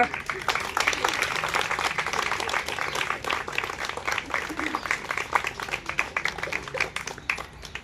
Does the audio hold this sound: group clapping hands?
yes